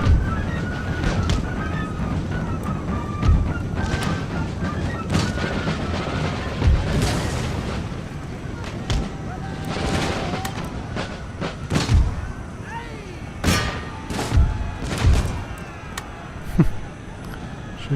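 Musket volleys and artillery booms from an Empire: Total War battle, scattered sharp cracks and heavy thuds over a steady windy battlefield bed, with someone talking now and then.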